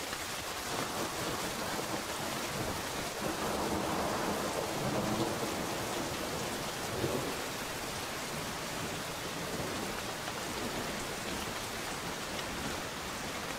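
Steady heavy rain pours through a rainforest canopy, a dense continuous hiss of drops on leaves with a low rumble beneath, no voices.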